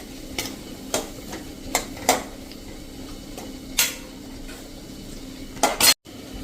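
Bottle gourd pieces stirred with turmeric and salt in a pan over a medium flame: a spoon clinks and scrapes against the metal in irregular strokes over a faint sizzle, ending in a sharp clatter, close by and with no talking.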